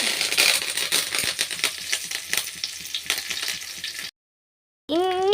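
Mustard seeds and curry leaves sizzle and pop in hot oil in a pan for pappada thoran, a steady crackling fry that cuts out briefly before resuming.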